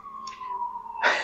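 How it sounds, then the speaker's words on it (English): An emergency vehicle siren passes on a busy street with a steady, slightly falling wail. A rushing burst of traffic noise swells near the end. "excuse me for the sirens, because I live on this really busy street"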